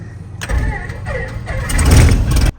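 The left engine of a cheap twin-engine airplane cranks and catches, building from a low whir into a louder, rougher running roar that cuts off abruptly near the end.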